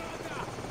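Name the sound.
helicopter in the video game Call of Duty 4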